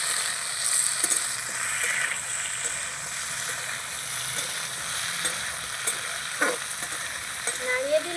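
A teasel gourd (kakrol) dish stirred in a pan after the lid comes off, a steady close sizzle with a few spoon scrapes and clinks, fairly loud and continuous with no talking.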